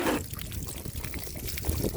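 Water pours and trickles steadily from a plastic water jug split open by a .45 ACP Federal 240-grain +P solid core bullet at an outdoor shooting test, a continuous near splashing stream over about two seconds.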